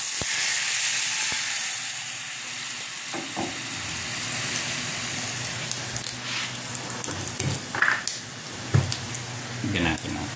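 Chopped garlic and onion frying in hot cooking oil in a pan, a steady broadband sizzle with crackling spits and a few louder clinks of stirring toward the end.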